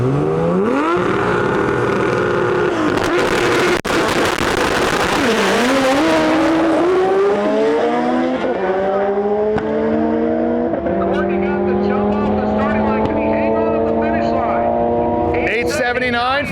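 2JZ Toyota Supra drag car launching down the strip, its engine revving hard and climbing through gears with loud, continuous roar and crackling pops, a commentator talking over it throughout.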